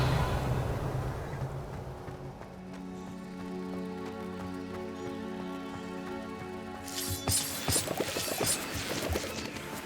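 The Revelio spell is cast in Hogwarts Legacy as a shimmering, ringing magical tone that sustains for several seconds. It then breaks into a sharp burst of crashing, sparkling noise near the end.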